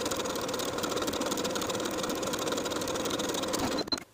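A sewing machine runs at a steady fast pace, edge stitching a folded sleeve hem on a dress, then stops abruptly near the end. Close and alone, with no talk.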